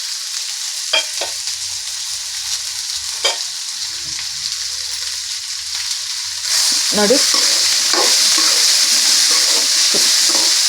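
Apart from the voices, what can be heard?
onions and turmeric frying and being stirred in a pan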